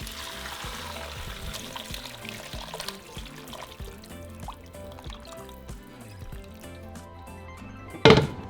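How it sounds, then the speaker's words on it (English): Beef broth for consommé is strained, with liquid pouring and dripping steadily over about eight seconds beneath background music, ending in a sharp louder splash or clatter. "now we're going to strain our broth, and that's going to be used as our consommé"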